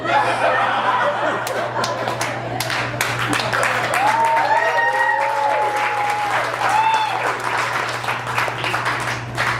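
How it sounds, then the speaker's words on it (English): A comedy show audience applauding loudly and steadily throughout, mixed with scattered laughter and whoops, with a constant low hum underneath. "That's an applause break, Justin."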